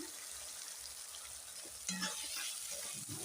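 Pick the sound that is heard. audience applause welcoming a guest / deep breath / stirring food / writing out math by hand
stirring food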